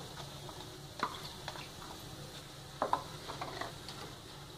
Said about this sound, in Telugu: బాగా ఫ్రై చేసుకుంటూ ఉందాం.